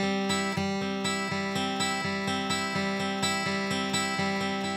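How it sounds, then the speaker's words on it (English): A steady, even crosspicked Scheffler roll is played on a guitar without rest strokes, giving a continuous run of evenly spaced picked notes and ringing chords at moderate volume, with no talking. "the Scheffler roll without doing the rest stroke, it would sound like this. This is pretty even."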